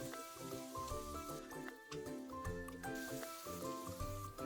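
Garlic, green onion and dried chili sizzle steadily as they are stir-fried in a wok for hot and sour shredded potatoes, partly masked by melodic background music throughout.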